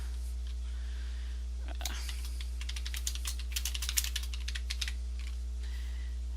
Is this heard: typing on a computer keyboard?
yes